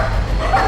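A dog gives a short, loud, close bark with a yelping, whimpering edge, heard within a Hindi TV drama scene.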